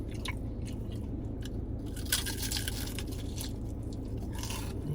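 Crispy crab rangoon is bitten and chewed up close, a steady run of crunchy, crackling mastication with a few sharper snaps and no talk.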